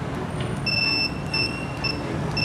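A two-way motorcycle alarm system, locked with the key left in, gives repeated high electronic beeps in short evenly spaced bursts over a low background rumble.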